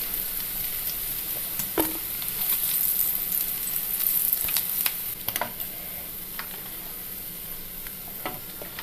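Sardines fry in oil over a low flame with a soft, steady sizzle. Faint clicks and scrapes of stirring are heard now and then.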